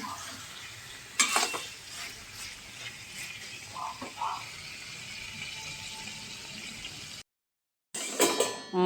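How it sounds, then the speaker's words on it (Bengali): Mutton for Bengali kosha stir-frying in a pan, a steady soft sizzle with occasional louder scraping stirs and clinks, continuing close and alone before a brief silent gap. "দেখো মাংস কষছে"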